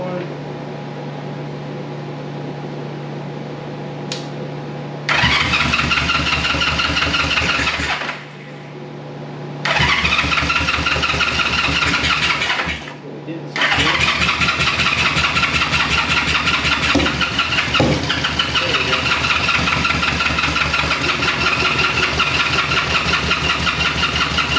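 A vintage Honda CB350 motorcycle with choke on is cranked and fires up, running in loud, rapid popping bursts, cutting out twice and restarting before settling into a steady, uneven idle.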